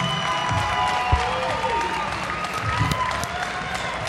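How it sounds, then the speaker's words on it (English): Crowd applause for two boxers at a fight, clapping and cheering around the ring mixed with arena din and music, a steady moderate roar with occasional louder bursts. "Big round of applause for both these fighters."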